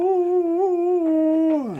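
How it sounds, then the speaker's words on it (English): A dog whimpering and whining close up while licking a person's face, one sustained tonal whine that wavers and then slides downward at the end, with no talking. "My dog's licking my face."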